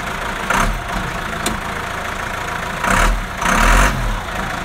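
A vehicle engine runs steadily in first gear, a low continuous drone with a couple of brief louder surges of revving, heard alone with no talk.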